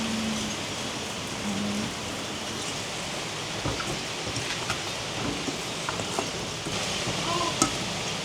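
Typhoon rain pours steadily on an old Okinawan house, a dense constant hiss with scattered drips and knocks throughout.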